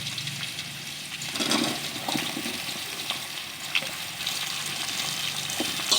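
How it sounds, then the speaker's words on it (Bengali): Potatoes and mixed vegetables frying in oil in a pan, with a steady close sizzle and soft stirring and scraping sounds throughout, no talk. "এবার আমি বাকি সবজিগুলো সব দিয়ে দেবো"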